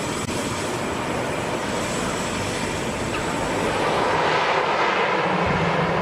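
Fixed-wing airplane at Lukla Airport on the runway, a loud steady engine roar with broadband rush that holds throughout and swells slightly toward the end, with no speech.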